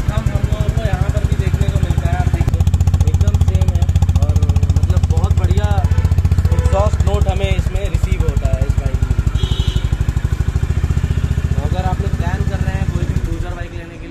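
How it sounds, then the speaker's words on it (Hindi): A Honda CB350 Highness motorcycle engine gives a steady, loud, rhythmic thump at idle that swells as it is revved, continuous throughout. "जब आप बाइक रेव करेंगे तो इसका थंप उसी हिसाब से बढ़ता है।"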